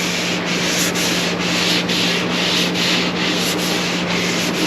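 Steady back-and-forth strokes of a sanding board working over a fiberglass part, a continuous close rasping scrape with a regular rhythmic pulse and no voices.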